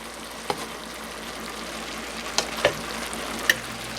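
A cabbage and egg roll mixture fries steadily in a pan, sizzling throughout, while a few sharp clicks and scrapes come through as a utensil folds it over.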